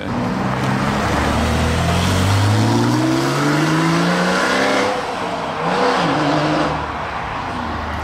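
A BMW M3 G80 with a manual gearbox revs hard and loud up close, its engine note climbing steadily, then dropping briefly at a gear change before pulling again.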